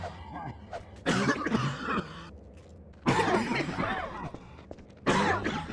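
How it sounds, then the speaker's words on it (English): Coughing from a virus in the game Garry's Mod comes in three harsh bursts about two seconds apart, each a rough, throaty fit, with quieter gaps between. "It would make a coughing sound."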